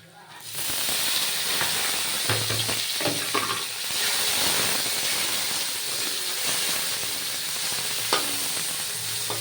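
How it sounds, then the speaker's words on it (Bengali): Ginger, green chilies and tomato frying in a pan for khichdi, a loud steady sizzle with a constant hiss and a few soft stirring scrapes, near and alone. "তো দেখো আদাটা আমার অলমোস্ট ভাজা হয়ে গেছে। এবার আমি এটাতে অ্যাড করব কেটে রাখা কাঁচা লঙ্কা"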